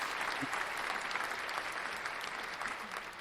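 A round of applause from an audience, dense steady clapping throughout a few seconds without a break.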